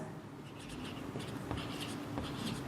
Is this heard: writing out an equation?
yes